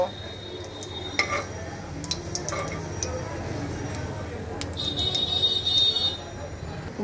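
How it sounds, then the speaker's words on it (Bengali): Bay leaf, whole cumin and dry red chillies fry in a pan for a bottle gourd dish, with steady frying noise under clinks and scrapes of a utensil against the pan and a faint voice in the background. "শুকনো মরিচ আর তেজপাতাটাকে একটু ভেজে নেব"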